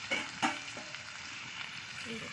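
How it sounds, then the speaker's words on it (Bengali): Chopped tomatoes and slit green chilies fry in a pan for a dal, a soft steady sizzle broken by a few sharp clinks and scrapes of stirring. "টমেটো কুচি আর চেরা কাঁচা লঙ্কা আমি এটা কিন্তু ভালো করে ঢাকা দিয়ে দিয়ে কষিয়ে যাবে"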